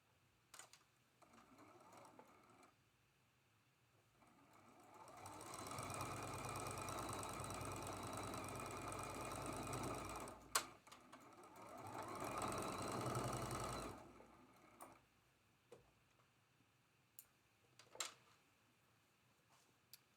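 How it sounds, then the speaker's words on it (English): Domestic sewing machine stitching a quarter-inch seam on a traditional pieced quilt block, in two steady whirring bursts of several seconds each separated by a short pause, with quiet handling clicks before and after. "we're sewing this seam right here with a 1/4 inch seam allowance"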